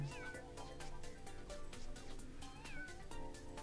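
A cat character meows a few times in Mario Kart Tour over a busy background of game music and sound effects, the meows fairly clear and mid-loud.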